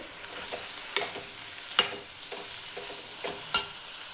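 Chickpeas are stirred into fried tomato, onion and turmeric in a pan, with a soft steady sizzle and a few distinct scraping strokes of a spoon.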